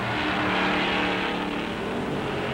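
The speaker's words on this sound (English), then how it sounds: "He roars past his pit in second place." Stock race car roaring past at the 1957 Darlington Southern 500, a loud, sustained engine blare with broad road and crowd-free track noise throughout, steady and close.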